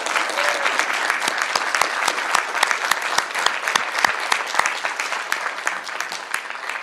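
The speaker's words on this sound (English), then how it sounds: "give them a round of applause" An audience at a Galveston Chamber forum for Texas Senate District 11 candidates gives a sustained round of applause. The claps are crisp, close and evenly spread, with no talking over them.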